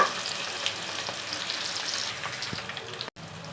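Spices tempered in hot oil for tomato gojju sizzle steadily and close, a continuous crackling fry with no talk, cut by a brief dropout near the end.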